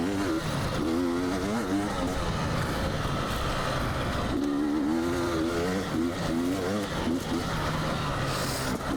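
A 2022 KTM 300 XC-W two-stroke dirt bike ridden hard off road, its engine rising and falling in pitch with the throttle, loud and close throughout with wind rush, and a rider's voice heard over it.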